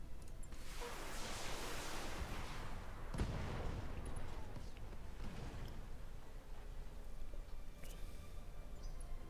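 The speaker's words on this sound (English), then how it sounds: "we've got a lot of SRMs going in" SRM missile salvos in the BattleTech video game: a rushing whoosh of launches builds early, a sharp impact crack hits midway, then rumbling noise fades out, all distant and quiet.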